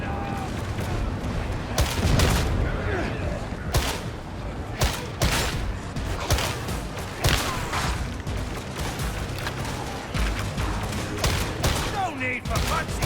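Rapid gunfire bursts and heavy booms from the first-person shooter Warhammer 40,000: Darktide, dense and continuous across the whole stretch with sharp repeated shots and explosive thuds, mixed with game voices.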